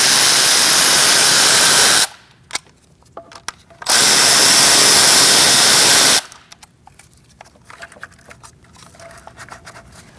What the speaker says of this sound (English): Using a T30, let's get these 2 bolts in the back.